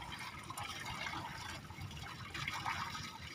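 A calf drinks from the Sabarmati river bank, with steady close lapping and splashing of water running throughout, a little louder near the end.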